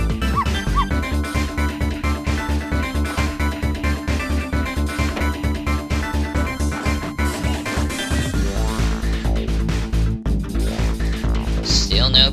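Small dog barking and whimpering in the video game Ghost Trick, short yips repeated rhythmically over looping game music and sound effects.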